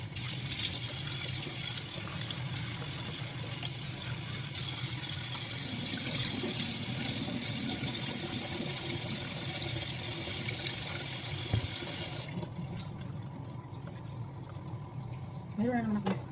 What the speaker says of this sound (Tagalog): Hugasan ko na lang para lutuin natin.